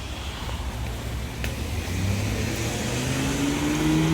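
A Porsche Carrera 4 with a manual transmission passes on a downtown street, its engine note rising steadily as it accelerates nearby amid steady traffic rumble.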